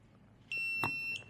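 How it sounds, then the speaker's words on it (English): A single steady electronic beep from an i2C T20 welding table heater as it switches off, a clear tone lasting about half a second in a quiet room. "you hear a beep, and it turns green"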